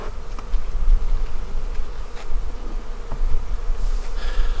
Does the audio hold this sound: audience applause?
no